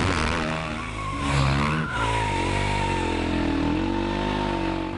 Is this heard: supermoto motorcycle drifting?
yes